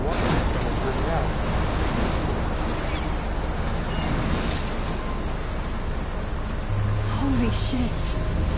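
Roaring wind and crashing sea from a giant tornado over the water in the game Life Is Strange, a steady loud rumble with brief faint voices near the end.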